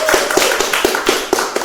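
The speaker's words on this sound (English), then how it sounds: "Let's have a little applause for Dean." A small audience gives brief applause for a guest speaker at a disclosure network meeting, a few loud distinct claps close by in a short uneven rhythm.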